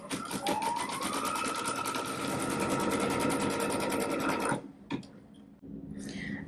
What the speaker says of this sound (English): let's go ahead with the first embroidery step, which is a placement line for the batting